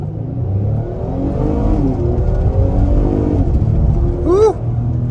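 A 2023 Acura MDX Tech SUV accelerates under throttle, its engine note loud and close, climbing steadily in pitch as it revs up, with a constant rumbling road and cabin noise beneath.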